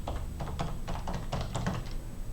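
Fast, steady typing on a computer keyboard, a run of light taps in uneven bursts, fairly close and unaccompanied by speech.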